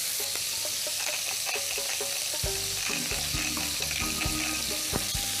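Duck cooking in a hot pan, a steady close sizzle with occasional stirring scrapes and clinks running through the whole stretch; a faint voice may come through briefly.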